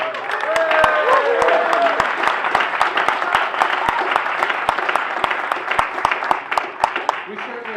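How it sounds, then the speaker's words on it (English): Applause at a Buffalo press conference welcoming the UFC president, with a crowd clapping steadily, sharp nearby claps standing out over the dense patter, and people talking beneath it. "You can clap for that."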